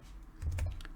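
Brief burst of typing on a computer keyboard, a few quick soft key taps close by and fairly quiet, lasting about a second with no talk.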